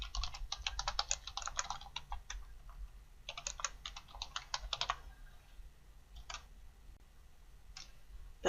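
Keys tapped on a computer keyboard while entering a search query, bursts of quick, close clicks in two main runs with a few isolated taps after, no speech.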